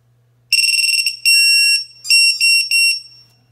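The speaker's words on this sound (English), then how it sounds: "I now have not only a lost buzzer for the Eachine Wizard, but also a failsafe now." Electronic lost-model buzzer on an Eachine Wizard X220 racing drone beeping loudly and close up in rapid bursts, a continuous tone followed by several shorter pulses, over a low steady hum.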